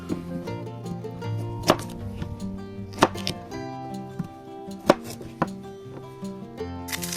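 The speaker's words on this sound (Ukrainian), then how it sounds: "Моркву поріжемо на 8 частин." A knife chops carrots into eight pieces for a grilled lamb leg, with a handful of sharp, separate knocks against a board over steady background music.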